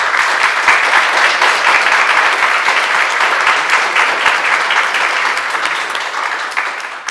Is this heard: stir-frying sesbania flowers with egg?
no